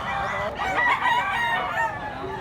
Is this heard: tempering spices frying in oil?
no